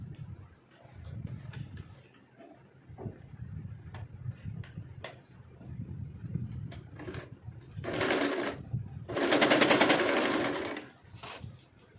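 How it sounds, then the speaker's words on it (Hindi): A sewing machine stitches a folded fabric strip for a foldable sanitary pad organizer pouch, running in short bursts with light ticks between and a louder, sustained run near the end. "ये सेंटर पॉइंट पे ऐसे रखते हुए इसको स्टिच कर लेना है"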